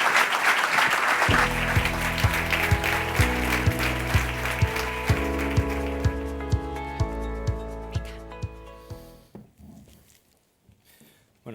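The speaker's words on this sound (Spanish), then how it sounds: "Pido también un aplauso para ellos" An audience at an innovation in vocational training event gives a short, dense burst of applause that quickly fades as rhythmic music with a steady beat takes over.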